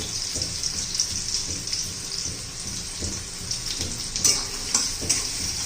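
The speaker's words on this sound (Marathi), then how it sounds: "छान असा कांद्याचा चांगला परतून घेऊया" Onion frying with garlic in a pan for a simple chicken fry, a steady broadband sizzle with occasional soft stirring scrapes and a few louder clatters near the end, no talking.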